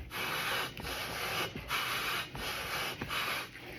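Gritty, sandy rubbing from lapping steel scope rings in steady back-and-forth strokes, close up, with brief pauses between passes and no voices.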